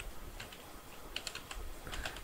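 Typing on a computer keyboard into a LinkedIn search bar, quiet clustered key clicks in short uneven bursts, with no voices present.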